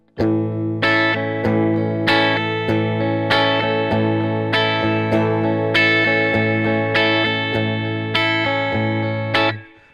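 A distorted electric guitar strums chords in a steady rhythm, with low and high notes ringing separately. It plays loud and close, with no talking.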